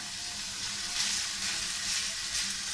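Minced meat kefta, seasoned with herbs, turmeric, ginger and salt, fries in a hot pan for lasagne, giving a continuous near sizzle with soft bursts of hiss and no voices.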